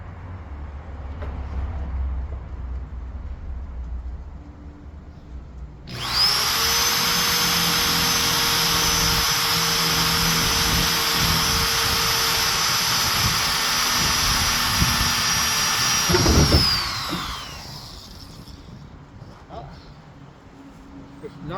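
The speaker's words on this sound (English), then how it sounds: "Time to drill and make sure it lines up." A power drill whines at a steady high pitch for about eleven seconds, then winds down. Faint background noise comes before and after.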